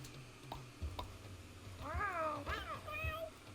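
A cat meows several times in the game Mewgenics, two rising-falling calls close together followed by a shorter one, faint and close, after a few soft clicks.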